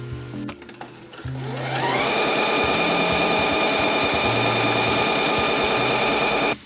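A sewing machine ramps up into steady, loud, close stitching and runs continuously for several seconds before cutting off, after some brief handling sounds at the start.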